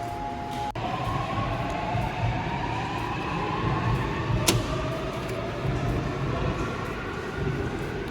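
A subway train rides through Korea with a steady rumbling roar and a slowly rising motor whine, broken by a couple of sharp clicks and knocks.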